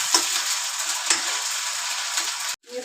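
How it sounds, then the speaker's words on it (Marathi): Onion and garlic paste sizzling steadily in hot oil in a pan, with a couple of sharp scraping stirs of a spatula, the loud frying continuing before cutting off abruptly near the end. "कांदा टाकू, लसूण पेस्ट, याला चांगलं फिरून घेऊ।"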